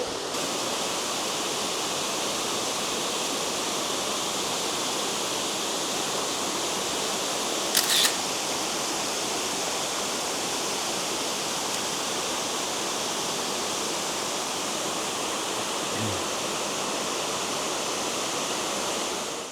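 Waterfall at Autoire in the Lot, France, with a crowd gathered in front: a steady, dense broadband roar of falling water, continuous and close, with a brief click midway and no distinct voices standing out.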